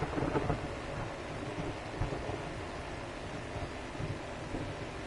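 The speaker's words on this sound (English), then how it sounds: "The damn rain just keeps getting in the way." Steady rain hiss mixed with low rumbling thunder in the video game 7 Days to Die, a dense continuous wash of weather noise with no voices.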